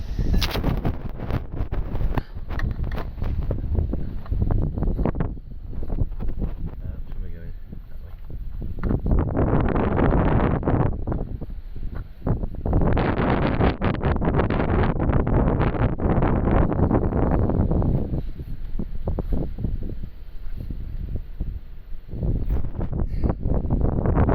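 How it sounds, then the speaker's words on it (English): Heavy, gusting wind buffets the microphone in loud rumbling bursts that rise and fall throughout, with brief lulls between gusts. "it's a bit windy today"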